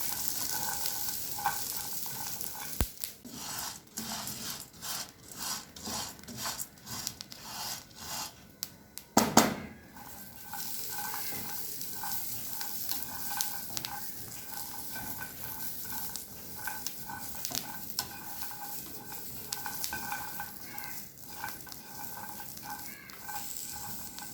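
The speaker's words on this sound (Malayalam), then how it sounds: "എല്ലാം വീട്ടിൽ കശുവണ്ടി കാണുന്നുണ്ടെങ്കിൽ നന്നായി അത് വറുത്ത് എടുക്കാം" Cashew nuts dry-roasting in a pan for Kerala cashew balls, giving a steady close sizzle with scraping and stirring strokes throughout, plus one brief louder clatter midway.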